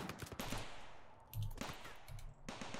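Colonists trading gunfire in the colony-sim game RimWorld, set in an extreme jungle: repeated sharp shots in irregular bursts, loud and close, with a steady noisy din between them and no talking.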